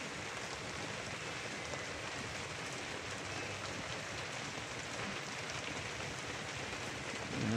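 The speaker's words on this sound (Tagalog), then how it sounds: "maulan pa rin" Rain falls steadily over a farm, a dense, even hiss that holds at the same level throughout with no voices.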